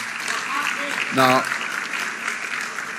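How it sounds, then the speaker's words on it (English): Ministers applaud at the South Africa Investment Conference 2026, a broad crowd clapping wash in a large hall, swelling briefly with a burst of speech or cheering over it, while a voice speaks near the start. "I'm glad that my ministers are even applauding more."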